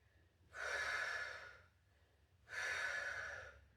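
Two slow, deep breaths, each a long airy exhale, are taken close and quiet while a bodyweight strength exercise position is held, with a gap of near silence between them.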